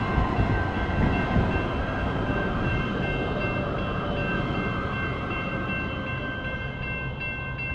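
A metro light-rail train passes close by, a loud, steady rumble of wheels on rail with sustained tonal whine and horn-like lines running through the whole stretch, no voices.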